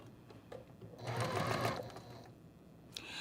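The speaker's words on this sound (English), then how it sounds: "I'm going to sew with a 1/4-inch seam" A sewing machine stitches a quilt block with a quarter-inch seam, whirring in a close, steady burst for a couple of seconds between quieter handling noises.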